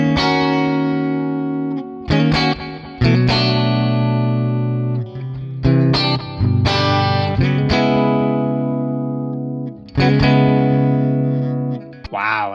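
Clean electric guitar through an Amplitube 5 Mesa Boogie amp simulation plays rich, sustained chords and notes that ring out and decay, with a few fresh strums and no talking.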